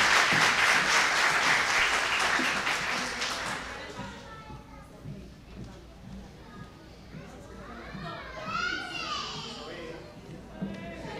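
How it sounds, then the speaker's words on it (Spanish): Audience at a children's music achievement day applauds the young performers, a loud burst of crowd clapping that fades after a few seconds into children's chatter and voices nearby. "un fuerte aplauso para los niños de Parcelas Mandri y Gándara"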